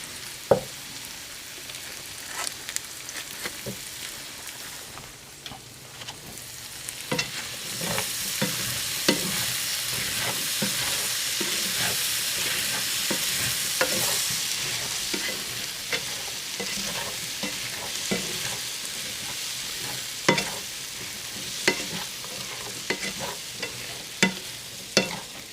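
Butter sizzling in a skillet for a Southern breakfast of smothered potatoes and sausage, a steady frying hiss swelling and settling while a utensil scrapes and taps the pan in irregular strokes, with no talking.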